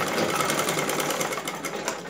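A sewing machine stitches a folded fabric edge on a blouse, running in a steady, continuous mechanical whir close to the listener with no pauses and no talking.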